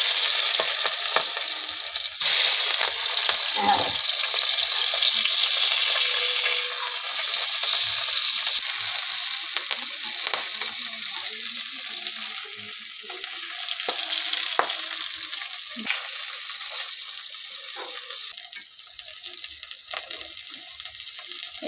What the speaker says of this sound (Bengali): এবার পাতুরিগুলো ভেজে নেব।